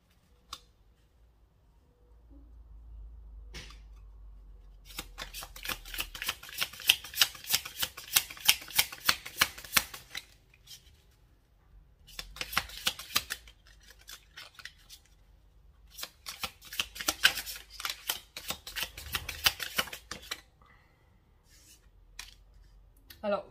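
Tarot cards being shuffled and handled in bursts of rapid riffling clicks, with pauses between rounds and occasional soft thumps, close and fairly quiet.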